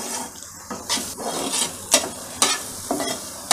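Vegetables frying with red chili powder being stirred in: a continuous sizzle broken by several sharp scrapes and clanks of a spoon against the pan, close and fairly loud, no speech.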